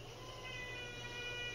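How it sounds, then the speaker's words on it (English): A pet cat meows softly over a steady low background hum, a short faint call that runs through the brief moment with no one speaking. "My cat wanna say hi to you too, guys."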